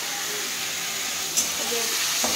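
Ginger paste frying in a pan in a home kitchen, a steady loud hiss and sizzle throughout, with a brief clink partway and faint voices in the background.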